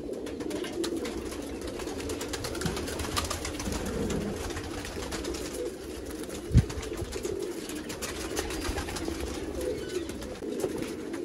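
Young pigeons coo softly and steadily at close range in a loft, a continuous low murmur with one brief sharp knock partway through and no talking.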